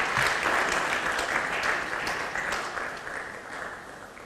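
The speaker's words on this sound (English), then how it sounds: "Round of applause." Applause for a permanent secretary from the Ministry of Information and ICT at a World Press Freedom Day event: steady, dense clapping from a crowd that holds strong throughout, then thins slightly toward the end.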